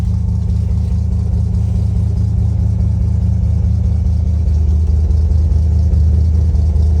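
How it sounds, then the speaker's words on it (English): Steady low rumble of a 1978 Ford F250 truck engine idling as it warms up, with an even, continuous tone held at a constant level throughout, close by and without voices. "I'll let it warm up a minute or two and then take a couple passes down the block."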